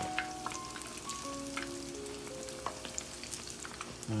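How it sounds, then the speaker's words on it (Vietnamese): Tofu sizzles as it fries in oil, a soft, steady crackle with scattered pops, close and fairly quiet, with light clinks from cookware and no talking. "mình chiên đậu hũ xong rồi bây giờ mình sẽ chiên đậu hũ kia"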